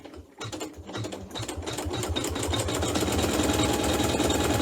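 A sewing machine runs a decorative stitch around a fabric leaf on chenille hot pads, starting with a few slow stitches, then settling into a steady, loud, rapid mechanical rattle.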